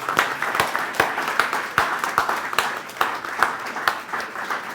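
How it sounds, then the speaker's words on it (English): An audience at a Jacksonville, Texas sesquicentennial celebration claps steadily, a moderate round of individual claps that continues evenly throughout. "They deserve a big round of applause."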